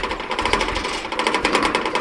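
The fuel pump on a 1982 Datsun 720 4x4 truck with a clogged idle circuit, running low on gas, makes a loud, rapid, buzzy mechanical clatter, close up and continuous.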